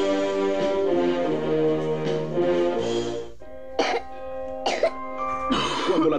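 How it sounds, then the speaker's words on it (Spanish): A person coughs and clears their throat in harsh bursts, first in a drawn-out rasping fit, then in several short separate coughs, close and loud. "La tos"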